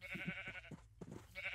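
Sheep bleats from the video game Minecraft, several short wavering calls close by over a steady background hum, with no talking.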